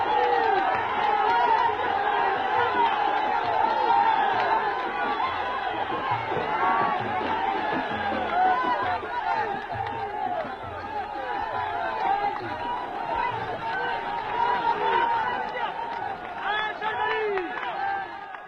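A large crowd gathered for the Green March celebration in Tarfaya fills the air with a steady, dense murmur of chatter and movement, continuous and fairly loud throughout.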